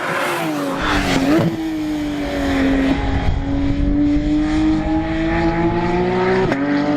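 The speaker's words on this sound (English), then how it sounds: "Listen to that engine" A Porsche GT3 RS engine hums loudly and steadily at high revs on the Nürburgring Grand Prix circuit, its pitch rising and falling slightly as it drives, with rushing road and wind noise.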